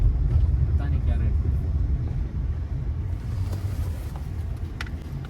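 A newly delivered Eva car rumbles close by, with a steady low engine drone and road noise throughout and a light rattle near the end; voices speak briefly over it.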